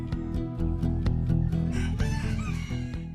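Ornamental chickens on a farm, a rooster crowing nearby over a busy bed of clucking and pecking, with a steady low hum beneath.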